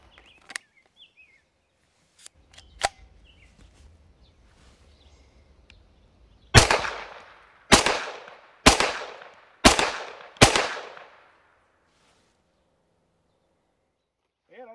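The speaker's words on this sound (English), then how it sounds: "I'll take that for 5 shots from 25 yards, shooting standing unsupported" Five sharp, loud shots from a Smith & Wesson FPC carbine fired standing at 25 yards, spaced about a second apart, each ringing out with a short echo after quieter handling noises.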